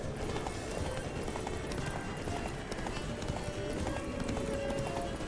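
Horse hooves gallop in a steady rhythm in The Witcher 3: Blood and Wine, with continuous clip-clop under game sounds and a faint rising tone.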